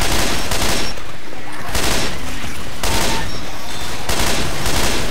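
Heavy, brutal gunfire in Left 4 Dead 2 comes in dense, loud bursts, each about a second long, separated by brief lulls, with someone talking faintly between them.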